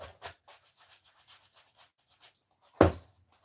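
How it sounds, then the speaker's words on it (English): Paintbrush bristles rubbed back and forth over a wooden nesting box, a run of soft, quick scrubbing strokes close by, ending with one louder knock or bump. "I usually just rub it in with my paintbrush really good."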